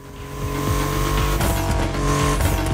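A Porsche engine roars hard during a race against Corvette C7 cars in The Crew Motorfest, loud and continuous with rising and falling revs through gear changes, other cars audible nearby, no talking.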